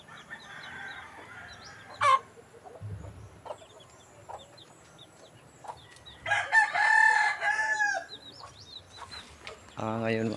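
Fighting cocks kept by a breeder crow in several loud bursts, and clucks and calls rise and fall between them. A louder crow rings out near the end. Faint low rumbles from the yard sit under the calls.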